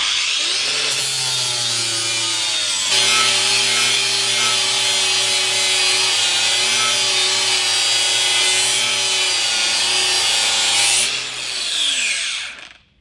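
A Metabo WPB 18 LTX 6-inch cordless flat-disc grinder grinds down a large steel weld, a loud continuous high-pitched whine with rasping grit that holds steady, then winds down at the end.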